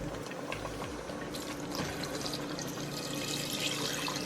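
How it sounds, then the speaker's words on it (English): Water pours steadily into a cooking pot of Ethiopian kikil being prepared on the stove, a continuous close splashing and gurgling fill that runs unbroken for several seconds. "So right now I'm gonna go ahead and add some water, pretty much like to cover this."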